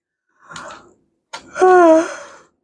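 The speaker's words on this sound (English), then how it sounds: "Seriously, every time with the yawns." A person yawns with two breathy exhalations, the second longer and voiced with a drawn-out tonal sigh, close and fairly loud against silence.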